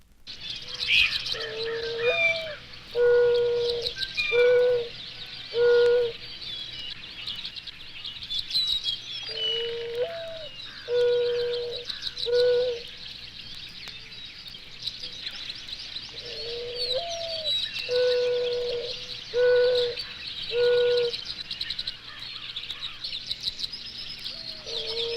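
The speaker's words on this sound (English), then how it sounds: "the mourning dove would be the cello." A mourning dove coos in low, soft, repeated phrases, several hoots grouped together with pauses between, while other birds chirp faintly in the background.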